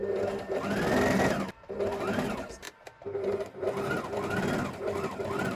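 A sewing machine hems a skirt with a narrow folded seam, its motor whirring in close, steady runs of stitching broken by short pauses, with no talking.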